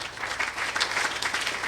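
Applause from an audience at a school speech contest, a steady wash of clapping throughout with no talk over it.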